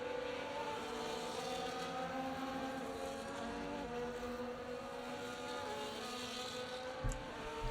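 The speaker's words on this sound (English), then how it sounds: "As the cars come back towards the grid to line up for the start of the race" F1 24 video game race cars roll back toward the grid, a steady droning engine hum with layered tones that holds evenly throughout, fairly distant and without sharp revs.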